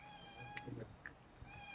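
A cat gives a couple of faint, brief meows at a rustic eatery, over a constant electrical hum and low background noise.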